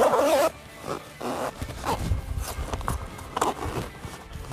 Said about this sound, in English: Pull the zipper over